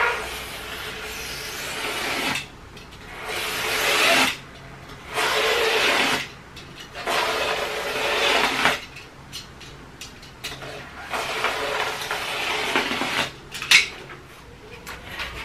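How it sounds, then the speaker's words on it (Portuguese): A utility knife slices through upholstery foam for a window-bench seat cushion, giving close, rasping cutting strokes in several bursts separated by short pauses, with no talking. "Para cortar, eu vou usar o estilete."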